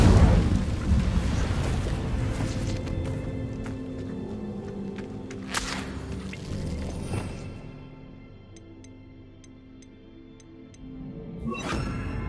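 Casting the Incendio fire spell in Hogwarts Legacy brings a roaring, eruptive whoosh with a few sharp bursts. It fades to a faint tinkling lull, then flares up again near the end.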